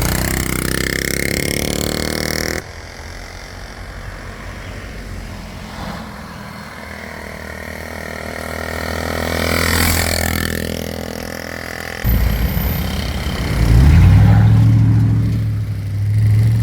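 A 1970 Honda Z50 minibike, restored to showroom condition, runs with a small single-cylinder engine note that rises and falls through revs, loud and close, with a sharp burst of throttle near the end.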